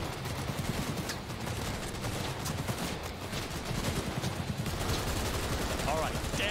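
Rapid gunfire from weapons in the Cyberpunk 2077 video game, a dense continuous barrage of shots with game sounds around it, loud and steady throughout.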